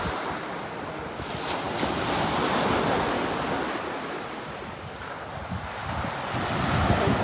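Rough sea waves surge in a continuous broadband roar, rising and falling gently, with strong wind rushing across the microphone and no talking.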